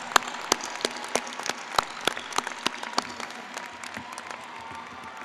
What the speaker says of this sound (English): So can I just have one of those big round of applause for our faculty?